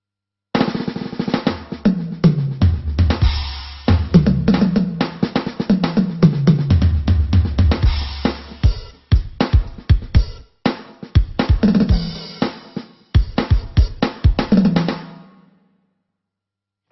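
A custom drum set on a Yamaha DD-65 electronic drum pad plays alone in a quick rhythmic pattern of punchy kicks, toms and crisp hits. The pattern breaks into sparser strikes partway through and ends in silence.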